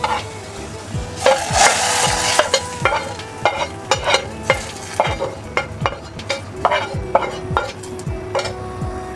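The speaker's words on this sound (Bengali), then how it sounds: "আর দেবো পেঁয়াজ ফোড়ন ডালে।" Chopped onion and green chillies go into a hot tempering for Bengali lentil dal. The pan sizzles strongly while a spoon scrapes and clinks against it in repeated strokes, close up and without talk.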